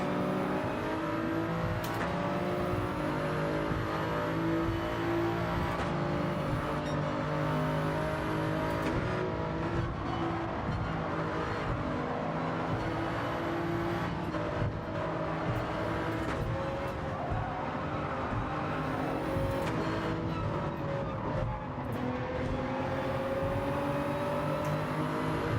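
A race car engine in a racing video game drones and revs steadily at close range, pitch rising and falling through gear changes, with brief sharp bursts scattered along the run and no talk heard.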